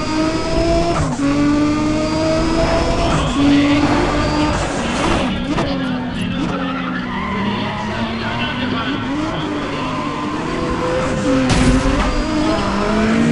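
Race car engine in Need for Speed: ProStreet, revving steadily and rising and falling in pitch alongside skidding and tire squeal, continuous and loud throughout, with a voice talking over it at times.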